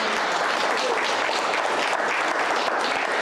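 Steady, dense audience applause at the closing gala for Black History Month in Laval, continuous and close with no break.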